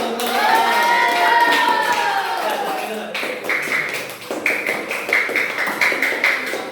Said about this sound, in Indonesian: Tuh, tepuk tangan dulu.